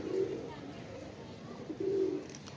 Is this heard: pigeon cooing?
yes